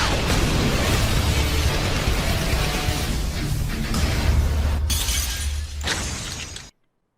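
A massive anime impact from the Serious Punch final attack in One Punch Man, a loud, sustained shattering roar that rumbles and crackles for several seconds before cutting off abruptly.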